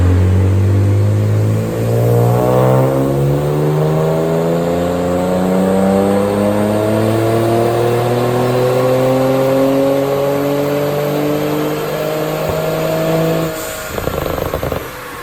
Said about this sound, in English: I think my car is going on the dyno, and we should see what kind of results we make